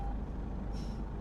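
Reversing beeps from a fuel truck on an airport apron in Microsoft Flight Simulator, a single faint, brief beep over steady background engine hum.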